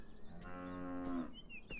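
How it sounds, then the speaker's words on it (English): A single long cow moo from the video game Beyond Eyes, a drawn-out harmonic lowing that rises and then fades over about a second, heard clearly against a quiet outdoor game ambience with no talking. "She can hear a cow though."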